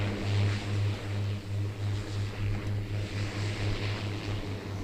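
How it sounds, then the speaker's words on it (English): A propeller plane drones steadily in the background at an airport in Seoul, a low pulsing hum layered over broad, wind-like outdoor noise. "I know you hear in the background a propeller plane"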